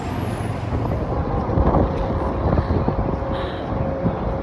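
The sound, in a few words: wind blowing into microphone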